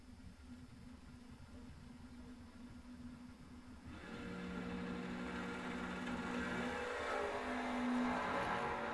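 Drag race cars launching side by side at a drag strip, engines swelling from a steady idle rumble into a loud sustained roar of acceleration that keeps building to the end, with no talk over it.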